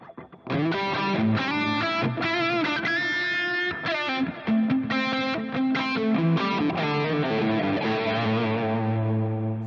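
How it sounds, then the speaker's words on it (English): A heavily distorted electric guitar plays a sustained, singing lead line with bends and held notes over a steady backing, loud and continuous. "you can have dynamics with a hot lead sound"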